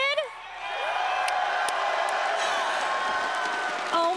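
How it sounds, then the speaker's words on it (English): Esports arena crowd at the Six Invitational 2023 playoffs cheering, whooping and clapping as a sustained loud roar, with a brief voice at the start and end. "my heart sings every time I hear this crowd. They are just so excited, so full of energy."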